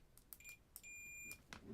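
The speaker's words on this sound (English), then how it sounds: "Multimeter, buzzing sound, or beeping sound rather." A multimeter continuity tester beeps while a circuit is being checked: a few short, faint high beeps, then one steady tone held for about half a second, with a couple of soft clicks after it.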